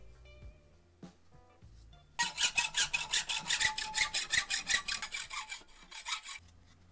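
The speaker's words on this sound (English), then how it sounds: "Just hacksaw this up and we'll lay it all out and we'll fabricate" A hacksaw cuts through mount material for Toyota Tacoma grill light mounts, a fast, loud, rhythmic rasp of back-and-forth strokes after a few quieter scrapes and knocks.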